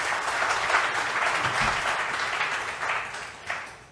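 Loud, close round of audience applause welcoming speakers to a talk, dense clapping throughout with a few sharper claps standing out near the end.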